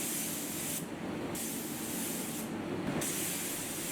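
Clear coat lacquer sprayed onto the pearl white striped paintwork of an Austin Mini GT-Four: two short bursts of spray hiss break through a constant airy hiss.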